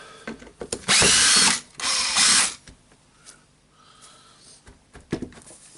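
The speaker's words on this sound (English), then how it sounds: "just unscrewing all the screws" A power screwdriver removes the screws from a Makita 9911 76 mm belt sander during disassembly. Two loud, close buzzing bursts are followed by quieter clicks and handling knocks.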